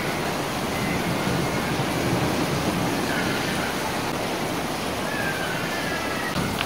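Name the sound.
rain falling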